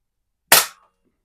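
A Rohm Twinmaster Match air pistol fires a single pellet at a can: one sharp, close crack that dies away quickly, with silence before and after.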